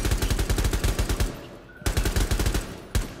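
Rapid automatic gunfire from the Rainbow Six video game, loud and close, in two long bursts of evenly spaced shots with a brief pause between them and a single shot at the end.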